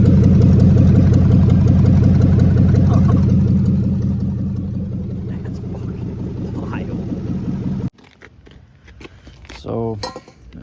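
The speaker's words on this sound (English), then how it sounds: "that's what open headers sounds like on a fucking" Ford 4.6 V8 with open headers idling loud and close for about eight seconds, a dense steady rumble that gradually eases, then cuts off abruptly as workshop handling noises and brief talk follow.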